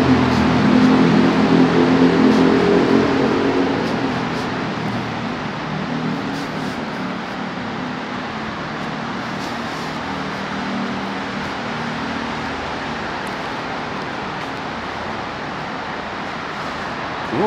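Cars passing on a street near Nogata Station in Tokyo at twilight, a continuous broad traffic rush, louder in the first seconds and then a steady moderate wash of road noise.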